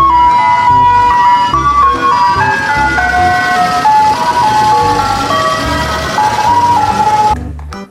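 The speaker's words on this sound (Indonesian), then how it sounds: "Yang ini ada mobil es krim" Toy ice cream truck playing its looping electronic jingle, a bright chiming melody that runs loud and steady for about seven seconds before cutting off abruptly, with no talking.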